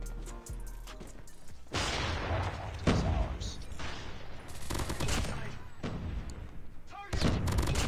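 Rapid bursts of automatic gunfire in a COD Mobile match, including a Mac10 SMG, crackling loudly and nearly continuously with heavier booming shots mixed in.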